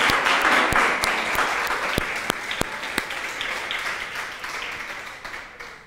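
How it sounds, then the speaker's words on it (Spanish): Church congregation applauding during a Spanish-language worship service, a dense wash of clapping with a few sharp louder claps standing out, steady and gradually tapering over several seconds. "Un fuerte aplauso para el Señor."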